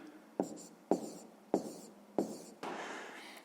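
Pen strokes scratch across paper while numbers are written out for a fifth-grade maths exercise on fractions and decimals, four short taps and scrapes in a steady rhythm, then a longer stroke, close and quiet with no talking.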